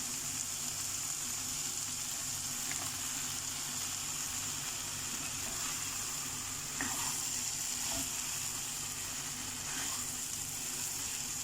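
Ridge gourd and moong dal tipped into a hot pan of oil and spices, giving a steady, close hiss of frying that continues evenly throughout, broken by a few faint clinks and stirring noises.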